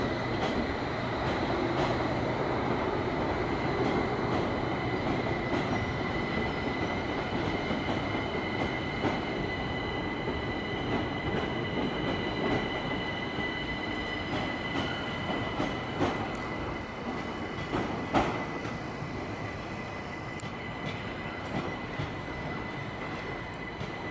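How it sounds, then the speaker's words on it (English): A London Underground District line train pulls away from a station, its steady rumble, wheel squeal and rail clatter loud and continuous throughout, with no talk. "Meanwhile, that district line train leaves."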